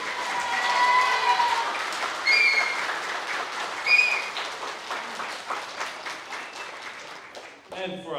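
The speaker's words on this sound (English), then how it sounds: "Can we please have a huge round of applause for Molly?" A school prize-giving crowd applauds steadily for several seconds, with a few whistles and cheers rising over the clapping before it fades.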